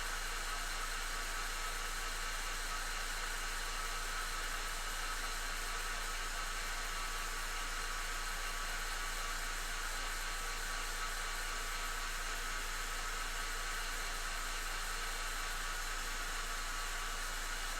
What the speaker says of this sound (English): I'm going to hit this with the dryer first.